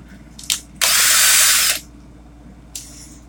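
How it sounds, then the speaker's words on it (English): A cordless drill whirs in a short burst of about a second, bracketed by brief clicks and a quick spin, loud and close. "Need to change the battery in my drill."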